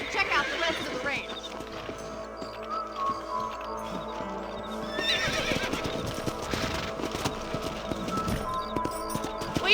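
Horse hooves clip-clop steadily while a horse whinnies in the Red Dead Redemption video game, with game dialogue and ambient sound layered over a continuous mix.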